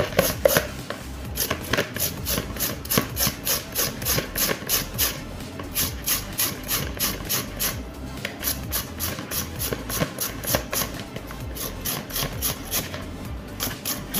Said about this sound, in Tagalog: Natin yan siyang kakayurin.